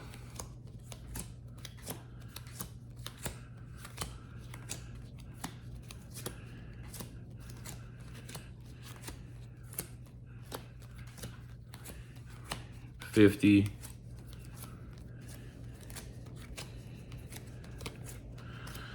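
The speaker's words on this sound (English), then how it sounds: "This is how I like to do an easy, quick shuffle." Soft, rapid riffles and snaps of Magic: The Gathering cards, dealt two at a time, tick along steadily under low background hum, with a brief louder shuffle burst near the end and a few spoken words.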